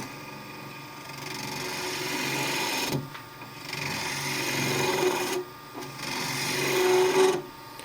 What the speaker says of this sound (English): There are a few ways you can hollow it out.